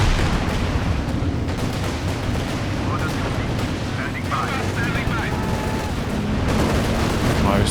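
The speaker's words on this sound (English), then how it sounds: "Breaks the retreat point immediately after hearing the land mattress fire." Land Mattress rocket artillery salvo in a Company of Heroes 2 battle, a dense continuous rumble of launches and blasts that holds steady throughout, loud and close, with other battlefield noise mixed in.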